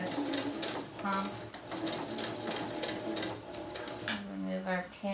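A sewing machine runs a seam on a winter tarp, its quick stitching bursts rising and pausing in an uneven rhythm, fairly quiet and close, while a person talks intermittently.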